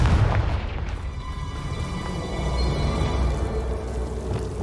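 A Confringo fire spell bursts in the Hogwarts Legacy video game, a loud booming blast that opens the clip and rolls into a sustained rumbling roar without any voices.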